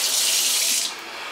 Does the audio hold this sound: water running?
yes